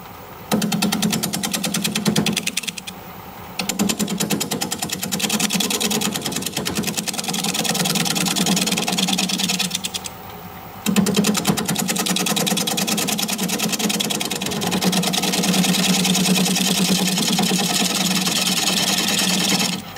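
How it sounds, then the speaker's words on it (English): A wood lathe spinning at about 600 RPM while a 5/8-inch bowl gouge cuts a bowl, giving a steady loud motor hum and a dense scraping roar that drops away briefly twice as the tool lifts off, with no talking. "We're going to start turning. I'm going to use a 5/8 inch bowl gouge."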